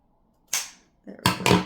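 Scissors cut fabric for reusable cosmetic pads in a few sharp, close snips, one brief cut followed by a quick double snip after a short pause.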